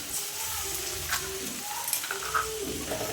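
Eggs fry in a pan for egg bhujia with a soft, steady sizzle and occasional scraping stirs, moderately close, with no talking.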